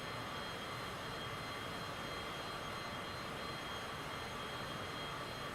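Airplane engine in the flight video game Tailstrike, a constant dense roaring drone with no variation, filling the whole stretch evenly and alone.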